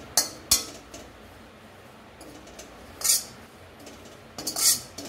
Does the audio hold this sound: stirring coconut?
yes